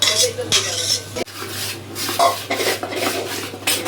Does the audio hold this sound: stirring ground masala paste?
yes